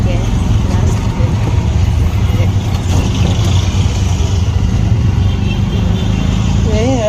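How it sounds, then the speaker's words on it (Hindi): Continuous, loud road traffic noise of cars, trucks and buses on a busy city street, heard from inside a moving auto rickshaw; engine rumble fills the whole stretch, with a horn-like wavering tone near the end. "देखो कितनी ट्रैफिक है रास्ते पे"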